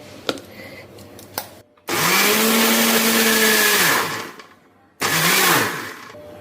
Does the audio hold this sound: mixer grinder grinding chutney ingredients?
yes